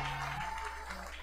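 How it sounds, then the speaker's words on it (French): Church congregation applause at a French-speaking Baptist service, a short continuous wash of clapping with voices mixed underneath. "Et bien, il y a un applaudissement."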